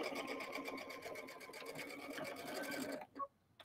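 A sewing machine stitches a seam through soft cuddle fabric, its rapid even whir running close and steady for about three seconds before stopping with a small click.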